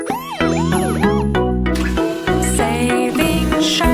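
A police car siren in a kids' cartoon, rising and falling tones sounding loud and continuous over bright, jingly children's music with no talking.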